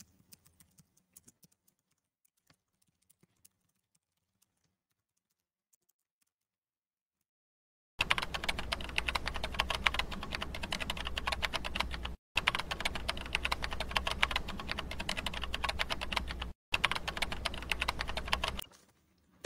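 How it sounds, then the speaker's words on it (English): Rapid typing on a computer keyboard comes in three dense bursts of clicking keys, close and clear, each ending in short pauses, after a long stretch of near silence with a few faint ticks. "in my case I just type this fast message"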